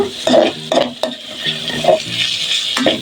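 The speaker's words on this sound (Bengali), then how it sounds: "আমি সবজির সাথে ডিমগুলো একসাথে মিশিয়ে নিচ্ছি ভালো করে" Vegetables and egg being stirred together in a pan for fried rice, with a spatula scraping and clinking against the metal in several uneven strokes over a low, steady frying sizzle.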